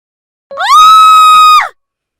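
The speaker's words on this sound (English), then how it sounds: "I heard a woman scream, seemingly coming from the park." A woman lets out a single loud, sustained high-pitched scream, rising sharply and holding for over a second before cutting off, close and clear against silence, voiced in a dramatic story set near a park.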